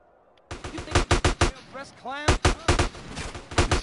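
Gang-fight gunfire in Grand Theft Auto San Andreas on PS4: rapid automatic bursts of sharp, evenly spaced shots crack out close and loud in two volleys, with a short gap between them filled by brief shouted game voices.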